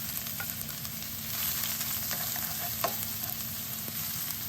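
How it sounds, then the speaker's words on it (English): Mustard seeds popping and frying in hot oil for a bitter gourd (pavakka) pickle, a steady dense sizzle with scattered small pops and crackles throughout, no talk. "So the mustard is popping"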